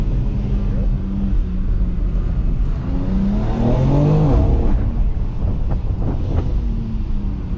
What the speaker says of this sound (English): you hear the turbo noise